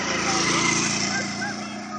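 Indian peafowl, a wild bird, calls loudly from close by in Sri Lanka, a dense, continuous honking cry with rough, buzzing tone under steady outdoor noise, no talking.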